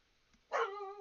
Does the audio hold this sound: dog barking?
yes